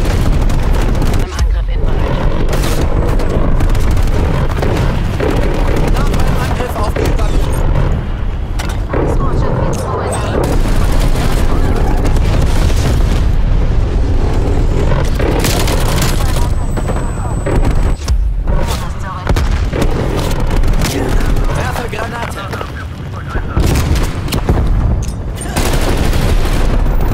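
An enemy gunship fires continuously in Call of Duty Black Ops Cold War multiplayer, with heavy booming rounds and rapid gunfire rolling on loud and almost without a break under game sounds and a voice.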